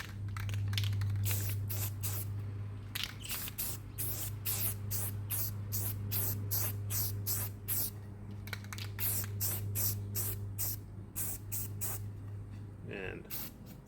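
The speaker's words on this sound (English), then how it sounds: "So take some can of spray paint." Short bursts of hissing spray from a spray paint can repeat in quick succession over a steady low hum, each spurt brief and close.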